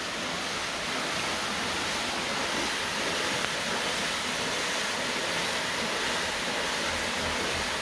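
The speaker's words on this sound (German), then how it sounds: "aber schon einmal als Einblick ein Wasserrad." Water rushes steadily over a water wheel at an old mill on a hiking route in the Elbe Sandstone Mountains, a constant even splashing roar with no talk.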